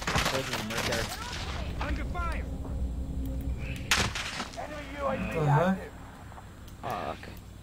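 Video game firefight with bursts of gunfire and explosive booms echoing through a busy battlefield mix, loud and continuous, with a player talking over the action.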